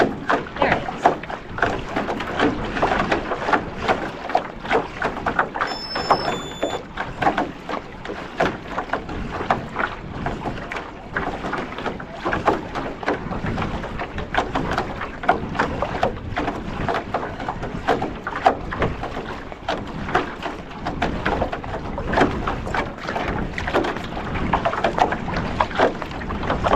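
Strong wind buffets the microphone outdoors during an interval training run, a continuous loud roar and rumble with gusty surges throughout.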